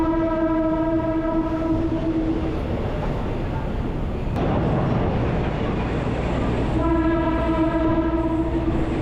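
A driverless train at the Mae Klong railway market in Thailand rumbles along the tracks with a continuous low roar, its horn blaring in sustained tones at the start and again near the end.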